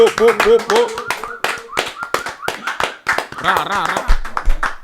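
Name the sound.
round of applause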